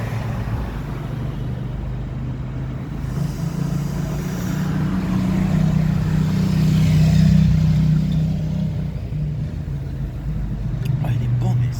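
Buses pass along a French city street, engine drone swelling to a peak midway and fading again while steady traffic rumble continues underneath.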